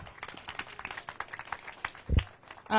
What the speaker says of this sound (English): Please, can we give a big applause to Mr. Wandera?